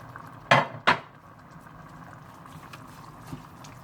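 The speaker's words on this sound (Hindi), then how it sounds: "तेजपात, ओरिगेनो, बाजिलिक, और पार्सले डालकर अच्छी तरह से मिला लें।" A spoon knocks twice against a pot while bay leaf, oregano, basil and parsley are stirred into Bolognese sauce with added water. Two close, fairly loud clinks come early, then only a low background hum.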